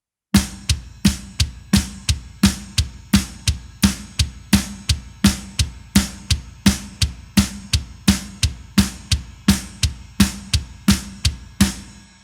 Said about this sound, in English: If we break down the bomb blast and we play it nice and slow